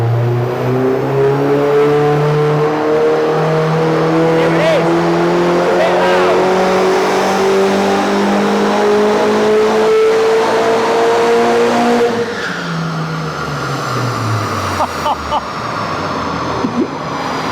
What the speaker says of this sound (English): You might actually hear my car in the background, in the dyno room